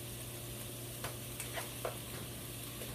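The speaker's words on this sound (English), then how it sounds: "We're going to fry the meat until it's perfectly cooked." Meat frying in a pan over medium-high heat for a Peruvian lentil stew, a faint steady sizzle with a few soft stirring scrapes and clicks.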